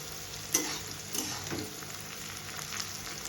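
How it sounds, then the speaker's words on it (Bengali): Greens fry with yogurt in a pan, a soft sizzle broken by a few scraping stirs from a spoon, close up and with no talking. "দই দিয়ে শাক ভাজা"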